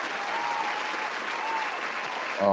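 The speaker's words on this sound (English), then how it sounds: "round of applause for football" Steady, dense applause from a podcast studio crowd cheering football, filling the stretch loudly and evenly, with a brief thump near the end.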